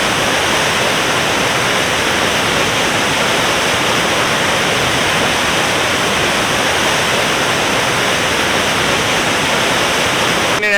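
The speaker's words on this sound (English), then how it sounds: "it's pretty much everything you could want in a waterfall. Huge, loud, wet, full of water" Rainbow Falls in Northern Ontario roars as a huge waterfall, a loud, continuous dense rush of water filling the whole scene without letup.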